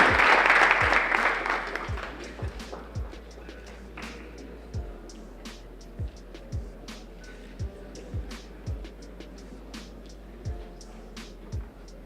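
Applause for the winner at the Capital Market University Challenge 2018 awarding ceremony: a loud burst of clapping that fades within about two seconds, then a quieter stretch with steady, regular low thumps.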